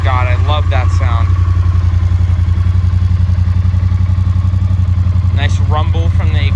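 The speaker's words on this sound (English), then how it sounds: "Nice rumble from the exhaust." A 2018 Triumph Street Twin in Jet Black, a trade-in with a powder-coated exhaust, idles with a steady low rumble close to the pipes, while a voice speaks briefly at the start and again near the end.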